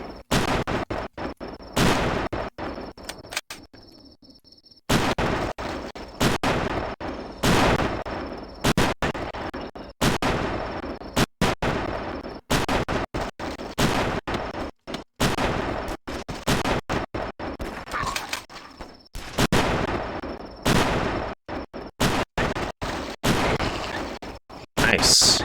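Gunfire from an enemy shooting in a video game: many sharp, loud shots in irregular bursts and rapid volleys run for about twenty-five seconds, with one brief quiet gap near the start and players talking in between.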